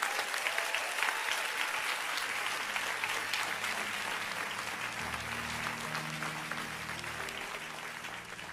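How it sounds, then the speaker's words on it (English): Church congregation at a prophetic worship service clapping for the Lord Jesus, sustained, even applause from many hands, moderately loud, with a low hum of music or voices creeping in underneath partway through. "Clap for the Lord Jesus."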